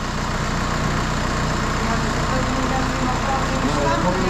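A car engine idles steadily with a low rumbling drone and constant broadband noise, fairly loud and close, with faint voices underneath.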